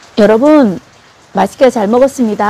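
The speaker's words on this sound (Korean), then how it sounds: "오늘 이렇게 지금 계속 비가 되게 많이 오거든요." Heavy rain falls steadily in a countryside setting, a soft hiss that sits mostly beneath a close voice and stays faint in the brief pauses between speech.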